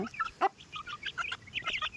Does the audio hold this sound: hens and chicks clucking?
yes